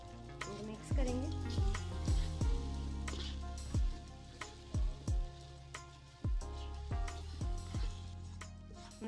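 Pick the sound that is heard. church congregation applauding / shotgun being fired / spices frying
spices frying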